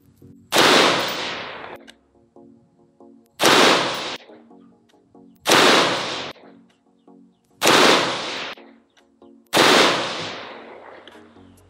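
A BCM lightweight RECCE mid-length AR-15 rifle fires 55 grain Guerrilla ammunition outdoors at a range, five loud, sharp shots spaced about two seconds apart, each with a ringing decay.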